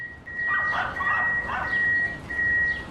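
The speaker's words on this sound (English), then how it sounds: "I hear dogs, but not see them." Dogs in the tram driving game City Transport Simulator: Tram give a few short barks and yips in quick succession over a steady high tone and ambient background.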